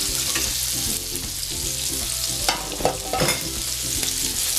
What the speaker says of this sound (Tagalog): So, mag-grill tayo ng corn.